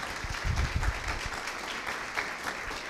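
Audience applause welcoming a guest named Igor onstage at an event in Itapetininga, a steady wash of clapping from a moderate-sized crowd lasting a few seconds.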